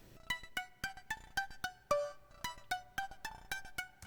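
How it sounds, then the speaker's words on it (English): Bright synth pluck melody transposed up an octave, a steady run of short, crisp plucked notes in an even rhythm with a couple of longer held tones, played alone and clear. "So basically it's now playing an octave above the main pluck."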